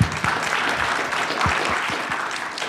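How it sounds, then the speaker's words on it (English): Audience at a business event claps for a speaker, a short burst of brisk applause with a few distinct close hand claps standing out. "let's give him a hand clap real quick."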